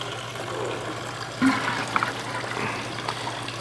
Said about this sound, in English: what I'm going to do now is actually pour in the synthetic ester fluid